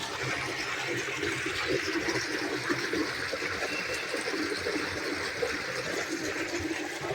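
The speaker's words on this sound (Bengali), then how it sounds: "এইভাবে আমি লকটা ঘোরানোর সাথে সাথে আমার ট্যাঙ্কের জল কীভাবে বেরিয়ে যাচ্ছে দেখুন।" Water rushes steadily out of a biofloc fish tank outlet after a valve is turned, a loud continuous gushing drain with no break.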